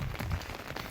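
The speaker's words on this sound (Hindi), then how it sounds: "रात को काफ़ी तेज़ बारिश थी, अभी तो बहुत आहिस्ता है" Light rain falls steadily in an even, soft hiss with no other sounds over it.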